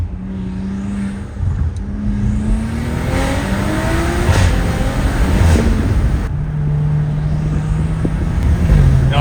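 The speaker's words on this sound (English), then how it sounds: "An SUV should not be moving this fast." A turbocharged Audi SQ5 SUV accelerates hard, its engine note climbing through the gears with brief dips at each shift, loud and close, with a faint tire squeal.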